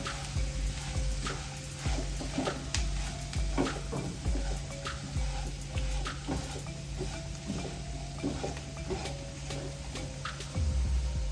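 Vegetables with salt being mixed and stirred in a hot pan, a steady sizzle under repeated scraping stirs, fairly close and moderate in level, with no talking.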